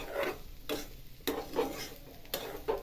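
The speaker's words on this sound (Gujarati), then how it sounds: "ધીમે ધીમે હલાવતા જવું. ભૈડાને બરાબર શેકાવા દેવું, જેથી કરી કાચું ના લાગે." A sukhadi mixture roasting in a pan is stirred slowly, giving about five soft scraping strokes at an even, unhurried pace over a faint sizzle.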